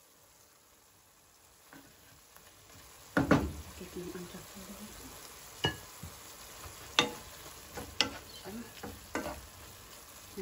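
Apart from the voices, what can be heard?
chicken fillet frying in a pan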